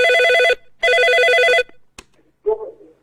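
A telephone rings for an incoming caller on a radio talk show: two loud, close bursts of warbling electronic ring separated by a short gap, followed by a click and a brief faint sound.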